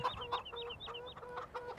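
Several chickens in a pen in Farming Simulator 2017 cluck softly in a repeating, chattering pattern, small and fairly quiet, with faint background noise and no talking.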